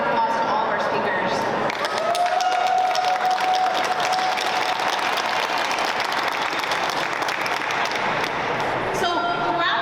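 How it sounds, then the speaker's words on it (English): Loud, sustained applause from a crowd at a press conference honoring its speakers, with dense clapping throughout and a faint tonal sound and murmuring voices mixed underneath. "please join me in giving a final round of applause to all of our speakers."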